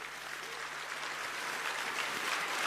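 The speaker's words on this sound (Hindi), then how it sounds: "ये ताली की गूंज" Sustained applause from a crowd at a university felicitation ceremony honoring the Chief of Defence Staff, a steady dense clapping that holds level and swells slightly toward the end.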